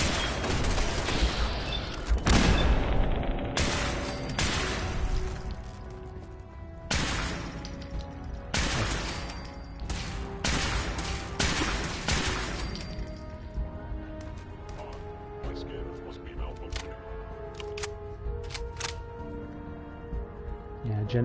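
Automated turrets in the Fallout 4 video game open fire on synths, a dense battle of rapid gunfire, cracks and impacts layered over music and game noise, loud and continuous with sharp bursts throughout.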